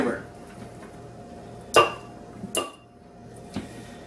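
A utensil knocking against a bowl while tuna and mayonnaise are stirred, a few sharp close clinks spaced apart over a low steady background hum.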